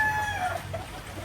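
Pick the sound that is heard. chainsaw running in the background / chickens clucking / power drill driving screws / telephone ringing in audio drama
chickens clucking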